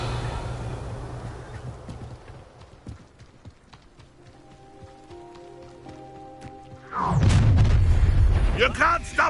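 A Confringo blasting spell in Hogwarts Legacy. Sparse clicks and a faint tonal hum give way to a sudden loud, crackling fiery blast that erupts near the end and keeps roaring.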